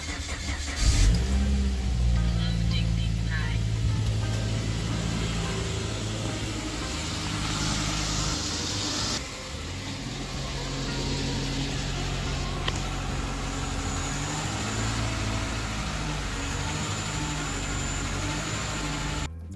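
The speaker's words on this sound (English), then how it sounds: "Now I would start the engine. You can see it's a cold start." Cold start of a Suzuki Grand Vitara engine after a power steering fluid flush, with a starter crank followed by a steady, close idle that stays even, with a faint whine over the running engine.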